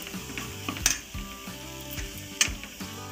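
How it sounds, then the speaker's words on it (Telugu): Carrots fry in a pan for egg fried rice, giving a steady sizzle with a few sharp scrapes and clinks as they are stirred, all close and alone. "ఒక 5 మినిట్స్ పచ్చి వాసన పోయేదాకా క్యారెట్ ఫ్రై చేసుకుందాం."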